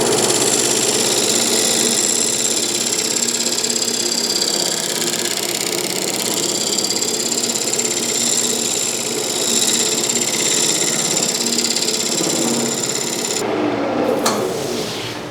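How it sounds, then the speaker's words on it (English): Green wood bowl blank spinning on a lathe while a skew chisel shears the outside surface, a steady close motor hum with continuous scraping and cutting, then a brief clatter as the lathe stops near the end. "we're gonna just get a skew chisel and kind of shear this up and make sure it's clean"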